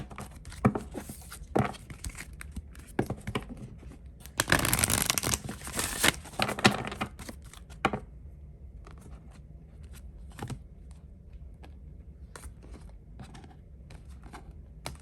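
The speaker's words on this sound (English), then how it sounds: "Just gonna pull from the Moonology deck." Cards from a Moonology oracle deck are shuffled and pulled in a quiet room, with soft riffling and flicking through the first half, a louder shuffling burst in the middle, then a few sparse taps and card slides.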